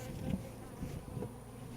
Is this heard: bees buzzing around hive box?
yes